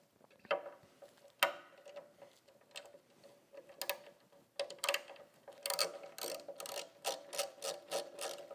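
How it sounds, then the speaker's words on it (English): Ratchet wrench with a 9/16 socket backing off the nut on a MAG 9000 sharpener's on/off switch, giving bursts of quick metallic clicking with short pauses, close and fairly quiet. "So to remove the switch, you'll need a 9/16 socket."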